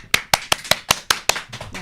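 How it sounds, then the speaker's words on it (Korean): A few people clapping to welcome a guest on a talk show, sharp, close claps in a steady, even rhythm, about four per second, loud and distinct, with no voices. "큰 박수로 환영해 주십시오."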